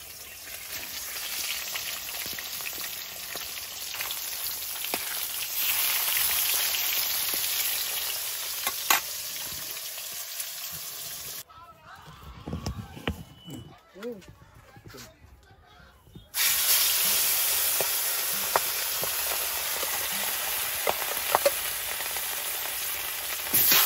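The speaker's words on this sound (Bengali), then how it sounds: "এই মাছ এনে কিছুটা ভেজে আলাদা করে তুলে রেখে দেবো" Several pieces of fish fry in hot oil, a loud, close, crackling sizzle that drops to a quieter bubbling stretch midway, then surges back with sharp pops.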